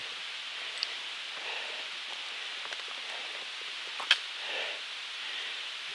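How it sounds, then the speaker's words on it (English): Light rain falls on a hiking trail on the Appalachian Trail, a faint, steady patter with a few scattered louder drops, heard alone without talk. "It has started raining."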